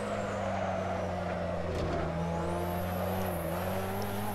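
Racing car in the Assetto Corsa video game, a steady droning engine with shifting pitch and faint tire noise, continuous and fairly close, no talking.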